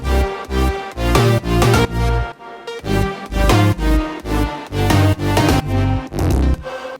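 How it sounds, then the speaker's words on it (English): Deep synth bass notes under a bright lead melody in an electronic drop, with booming low tones pulsing in a steady rhythm beneath the gliding synth line, loud and dense with no voices. "I just added some bass notes underneath the melody, which sound like this"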